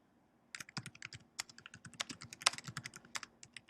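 Rapid clicking keystrokes on a computer keyboard, close and crisp, tapping in an irregular run after a brief quiet start.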